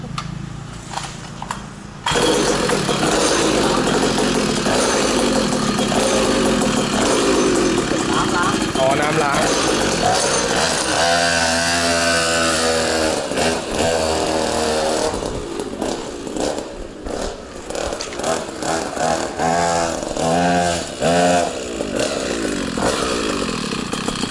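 A 63cc two-stroke gasoline scooter engine runs loud and close with a buzzing, rattling tone, revving up and down throughout, with people talking over it.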